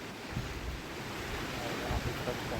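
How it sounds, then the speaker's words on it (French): Strong wind gusts by the sea on Santorini: a steady, full-bodied broadband roar of wind buffeting the microphone, with surf mixed in and rising slightly in the second half, with no talk over it. "Il y a grave de vent par contre."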